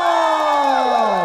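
Audience at a Korean television singing class program cheers and shouts for a singer, a short, loud burst of crowd noise with bright sustained voices.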